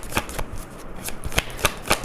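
Tarot cards are shuffled and drawn for a reading, with crisp rhythmic riffling and slapping of the deck, repeated flutters close up, and no talk.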